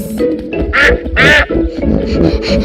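A cartoon duck quacks in two loud, nasal bursts close up, over a busy backing of music from a Peppa Pig cartoon.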